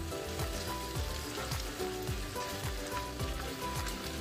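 Sautéed mung beans sizzling in a pan for ginisang monggo, a steady hiss and crackle with soft repeated stirring strokes, fairly faint and without talking.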